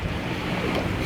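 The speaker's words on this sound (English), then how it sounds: "a nice gentle breeze blowing in off the ocean" A gentle ocean breeze blows in off the water on the Cayman Islands, making a steady, soft rush of wind noise with no voices.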